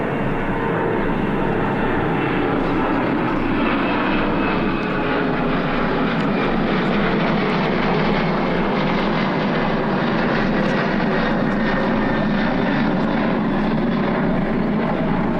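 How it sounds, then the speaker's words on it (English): An airplane flying overhead during an outdoor government press briefing, a loud continuous engine roar that fills the whole stretch without letup, no talk audible over it. "I hope we will finish before another plane"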